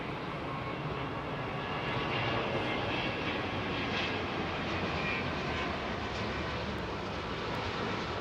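An airliner, a Singapore Airlines A380, comes in to land on the right-hand runway at London Heathrow, with a continuous loud, broad engine roar that stays steady throughout and no talking over it.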